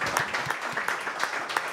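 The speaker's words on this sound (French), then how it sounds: "je crois qu'on peut applaudir nos intervenants" An audience applauds the speakers at the close of a French-language panel session: steady, dense clapping from a room full of people, fairly loud and continuous with no voices over it.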